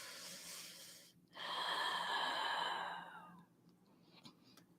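Deep breaths during a neck and shoulder breathing exercise: a long, loud, close exhale of about two seconds, with softer breath sounds before and after it, and no talking.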